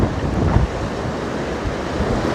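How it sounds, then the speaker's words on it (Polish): Atlantic surf at Isla de Lobos off Fuerteventura rolls in as a constant, rushing wash, heavily mixed with gusty wind buffeting the microphone, with no voices. "tutaj ocean ma te swoje, już widzicie, fale"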